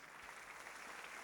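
A church congregation claps at length for God after the pastor calls for it, a dense, even patter of many hands, faint and somewhat distant, with no voices over it.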